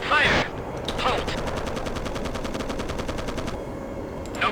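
Machine gun fire in the ArmA: Cold War Assault video game: a long, evenly paced burst of rapid shots lasting a couple of seconds, loud and close, with a few sharper cracks just before it.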